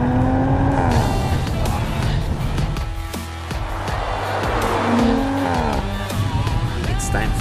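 An Audi RS 5 Coupé is driven hard on a track, its engine loud and close as it revs up, shifts and drops, with tires squealing through the corners.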